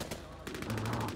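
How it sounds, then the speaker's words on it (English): Quick burst of rifle fire in Vampire: The Masquerade - Bloodhunt, a few sharp rapid cracks over low, faint game ambience, very short. "Ew, burst rifle."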